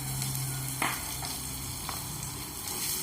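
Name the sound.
sautéing green chillies and ginger garlic paste in a pan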